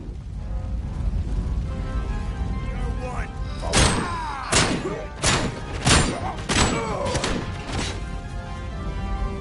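Heavy, booming gunshots from a powerful weapon in Robocop: Rogue City, about six or seven loud, spaced blasts with strong recoil thumps over an ambient game background.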